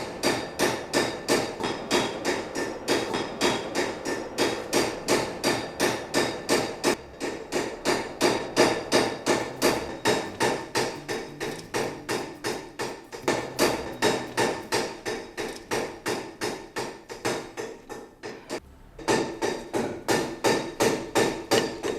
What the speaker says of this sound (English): finishes the entire vessel with a teller hammer, working evenly in circular passes from the base up to the rim